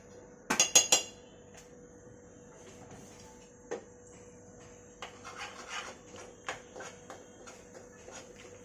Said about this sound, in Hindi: इस 1 कलछी घी में आटा भून लेंगे।